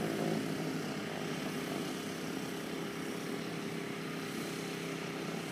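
A de Havilland propeller airplane drones overhead, its engine a steady, even, broadband roar at moderate distance that holds unbroken throughout, with no voices.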